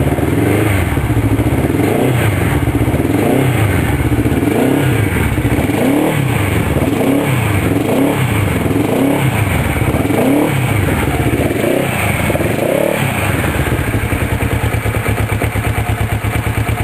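A cold 1983 Suzuki GR650 motorcycle engine idles steadily, its loud pulsing exhaust thumping in a regular rhythm close by and continuing without any talk.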